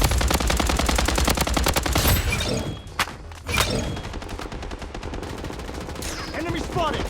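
Automatic weapon fire in the shooter game Blood Strike rattles in fast continuous bursts, loud and close, with a couple of sharp single shots and a brief pause midway, and no talking.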